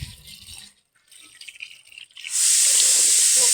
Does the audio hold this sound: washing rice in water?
yes